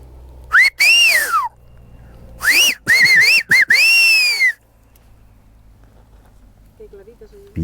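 Silbo, the whistled language of Gran Canaria, comes as loud, close whistled phrases with rising and falling pitch glides in quick clusters, followed by a quieter stretch.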